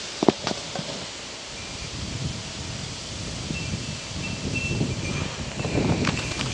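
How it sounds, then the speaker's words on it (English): Wind rustles plants outdoors during a hurricane with light rain, a soft, steady hiss of moving leaves that slowly builds louder, with a few brief knocks near the start and no talking. "It's getting windier."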